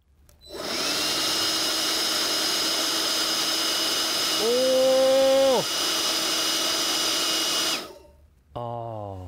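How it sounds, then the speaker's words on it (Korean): A DeWalt DC100 cordless leaf blower whines at a steady high pitch for about seven seconds, with a short surge in the middle, then winds down. A brief different tone follows at the end. "두 번째 디월트 충전 송풍기고요. 모델은 DC100 한번 쏴보도록 하겠습니다."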